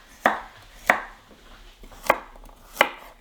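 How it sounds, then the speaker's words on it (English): A knife chops small carrots into rounds on a cutting board. Four sharp, close chops land at uneven intervals, with quiet gaps between them. No voices. "you can just cut them into small little rounds like that"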